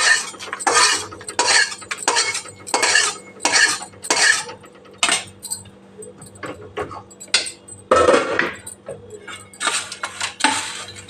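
Roasted masala spices scraped and scooped out of a metal pan with a spoon, bright repeated clinks and scrapes in an uneven rhythm, close and fairly loud.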